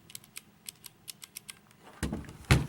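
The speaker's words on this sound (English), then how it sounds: "Nice mechanical click." Kailh blue switches clicking on an E-Blue Mazer mechanical gaming keyboard, a string of crisp separate keystrokes at an uneven typing pace, then two louder, heavier clacks at the end, close up with no talk.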